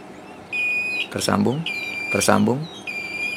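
An electrical continuity tester gives steady, piercing high beeps while checking wiring connections on a replacement Regency dynamo; the tone sounds in separate bursts, and someone talks over and between them close to the mic.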